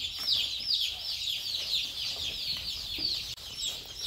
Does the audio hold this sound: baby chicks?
yes